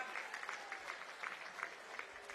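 An audience at a Gujarat ceremony applauds. The clapping is faint and distant, an even, low-level patter of many hands with a few slightly louder swells.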